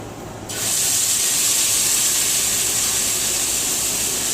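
Lace cornbread batter hits hot grease in a pan and a loud, steady sizzling hiss starts abruptly, then holds close and even throughout.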